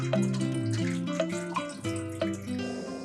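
Leafy kienyeji vegetables, managu and terere, being washed by hand in water in a village setting, with sloshing, splashing and dripping sounds mixed with tonal background music.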